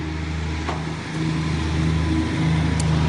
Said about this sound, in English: there's a car coming. We don't want to be run over.